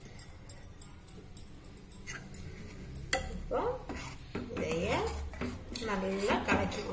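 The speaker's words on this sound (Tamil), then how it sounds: "இனி நம்ம இந்த கேரட்டு அரைச்சி வச்ச இந்த பேஸ்ட்டை உள்ள கலந்துருவோம்." Carrot paste stirred into semiya payasam in a metal pot, with a spoon clinking and scraping close by, joined by a person speaking over the stirring in the second half.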